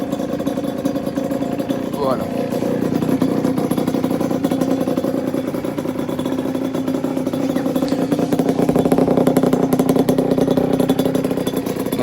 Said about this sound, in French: je vais vous la démarrer pour entendre un peu le bruit. Donc là, elle va être froide évidemment. Donc c'est le bruit à froid.